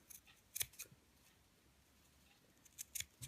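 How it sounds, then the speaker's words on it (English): A few quick scissor snips trimming excess fabric at the corners of a sewn sugar skull pincushion, crisp and close, two snips early, then a pause with faint room noise, then two more near the end. "I mean snipping across the corner of the skull, removing that excess fabric"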